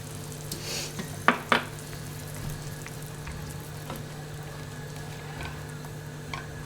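Sambar with lentils simmers in a pot, giving faint, steady bubbling and hissing with a couple of brief louder pops near the start.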